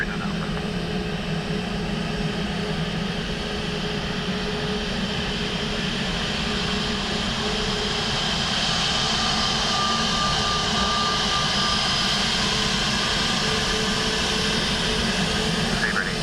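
Steady roar of an Aer Lingus Regional airliner landing on runway 28 left at Dublin Airport in low visibility, a continuous broadband jet and engine drone holding level, heard from a distance alone without talk.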